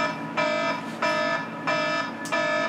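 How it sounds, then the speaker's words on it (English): Indoor electronic alarm beeping four times in steady, even pulses, loud and close with nothing else heard. "Thank you, rude alarm."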